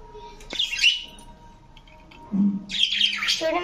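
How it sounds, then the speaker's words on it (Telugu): Pet yellow birds chirp close by in two bright, busy bursts of tweets. A short lower squawk comes between them, and there is no talking. "ఎల్లో బర్డ్ మా బన్ను గాడికి మొన్ననే పేరు తెచ్చాము"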